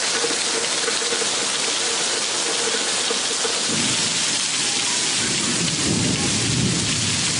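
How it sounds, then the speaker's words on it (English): Heavy rain pours in a steady, dense roar during a thunderstorm on a cycling trip through the Americas, with deep thunder rumbling underneath partway through. "I'm from Scotland, I'm used to cycling in the rain, but this stuff's something else."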